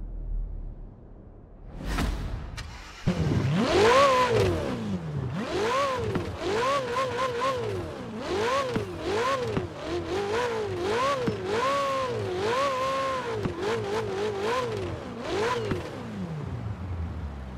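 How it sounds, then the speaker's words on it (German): Ferrari California T V8 in Forza Horizon 4 revs hard again and again, its pitch climbing and dropping through repeated sweeps after a brief whoosh, loud and close with no talking. "Und hören uns den V8 mal an."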